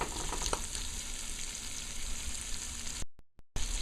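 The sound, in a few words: egg curry frying in oil in a pot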